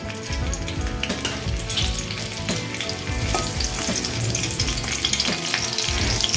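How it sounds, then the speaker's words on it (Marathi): Green chilies sizzle and fry in hot oil in a wok, a steady, dense crackling hiss that holds at an even level throughout with small pops scattered across it. "तेल गरम झालंय, यामध्ये आपण आहे ना आधी हिरव्या मिरच्या घालूया"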